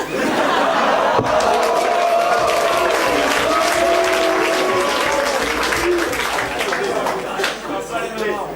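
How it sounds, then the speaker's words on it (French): Audience applause at a French comedy stage show, a loud, dense and sustained ovation from a crowd, with some chatter and laughter mixed in, tapering slightly near the end. "il applaudit"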